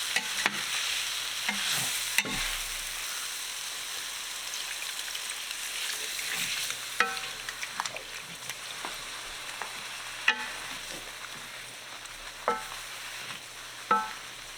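Beef broth poured into a pan with flour and stirred as it thickens for Salisbury steak, giving a steady close sizzle with occasional sharp scrapes and taps of a utensil against the pan, no voices.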